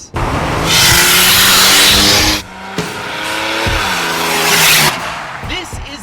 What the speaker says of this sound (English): This is the 1992 GMC Typhoon, and it's an all-wheel drive, turbocharged V6 SUV that spanked Ferraris in a straight line.